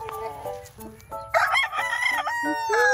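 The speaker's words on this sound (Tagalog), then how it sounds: "Kumustahin naman natin ang ating mga manok. Kung kumakain ba sila ng maayos." Farm chickens clucking close by while a rooster lets out loud, drawn-out crows, several overlapping calls in quick succession with faint background voices.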